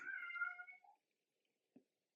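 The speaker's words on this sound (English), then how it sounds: "That was the Wailing Lament of a Cat." A cat lets out a single drawn-out, wailing meow that rises and fades over about a second, followed by near silence and one faint soft knock.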